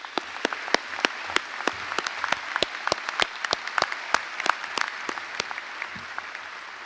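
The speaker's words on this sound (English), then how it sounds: "Please give them a loud round of applause." A large crowd applauds at a university undergraduate commencement in a basketball arena, a steady burst of dense clapping with sharp individual claps standing out, loud and sustained without voices.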